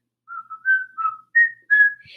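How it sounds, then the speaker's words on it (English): A lone whistler carries a short tune of Happy Birthday, a series of clean held notes rising in pitch toward the end, with small pauses between phrases. "He whistled Happy Birthday."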